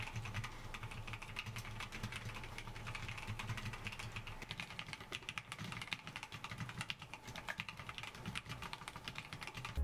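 Gateron North Pole V2 mechanical keyboard switches typed continuously in a full sound test, a dense, rapid stream of close clacks and thocks with no voices.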